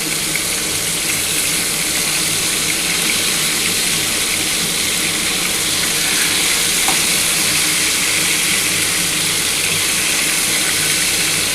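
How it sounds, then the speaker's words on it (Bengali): Rohu fish pieces frying in hot oil, a loud, dense and continuous crackling sizzle that holds steady and close throughout, with no talking. "একটু হালকা করে ভেজে আমি মাছটা তুলে নেব।"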